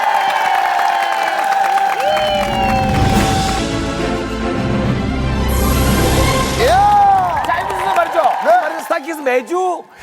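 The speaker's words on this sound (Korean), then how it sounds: "대백 여러분들의큰 박수가 필요합니다!" A studio audience on a Korean variety show breaks into loud cheering and applause for a guest performer, swelling into a dense crowd roar with whoops over music and a host's voice.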